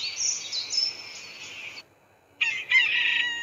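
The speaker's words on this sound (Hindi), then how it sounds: "उसने अपनी आवाज में अलार्म भरा तो वह घड़ी बिल्कुल सही समय पर बजी" A rooster crows loudly, pauses briefly, then crows again, with faint background noise between the calls.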